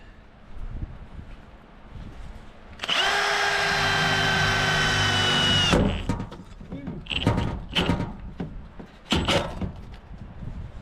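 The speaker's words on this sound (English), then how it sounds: "I hope this drills through okay." An old drill bit bores through a cabin wall in winter, a loud steady whine lasting about three seconds before cutting off, followed by scattered knocks and rattles of the tool and wall.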